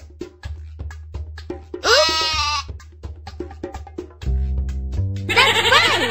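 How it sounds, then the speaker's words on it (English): Two bleating goat calls ring out in a Dora the Explorer farm game among quick clicking sounds, with a synthetic electronic tone sounding between them. "It's a goat!"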